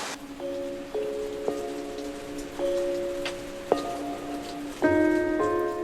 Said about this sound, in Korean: 비는 내리고 또 내립니다